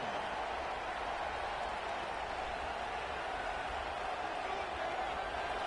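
Steady roar of a large football stadium crowd at an NCAA college game, a dense continuous wash of noise with no breaks.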